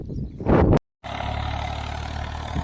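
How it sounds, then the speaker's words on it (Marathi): A tractor ploughing a hillside field hums steadily at moderate volume after a brief louder burst and a short dropout, its low rumble continuing evenly throughout. "वावर फणायचं काम चालू इथं ट्रॅक्टरने."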